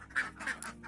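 Laying ducks on a duck farm let out a few quick, nasal quacks in close succession, loud and near.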